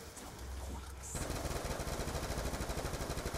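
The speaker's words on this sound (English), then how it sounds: "I'm in the middle of shooting something" Rapid automatic gunfire in a Call of Duty Black Ops 2 Zombies match on the Origins map, with a steady, close stream of shots that begins abruptly about a second in and continues to the end.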